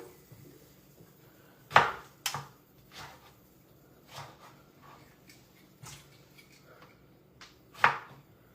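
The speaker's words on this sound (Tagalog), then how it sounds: "hinihiwa ko talaga siya" A knife cuts through food on a board in a home kitchen, with scattered thuds and chops, a few loud strikes and softer cuts spaced irregularly, close by and with no talk.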